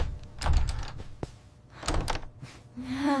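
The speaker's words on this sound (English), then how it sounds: "The door is closed." A door closing inside a house, heard as a couple of dull thuds and a latch click amid quiet room noise, followed by a brief mechanical whir near the end.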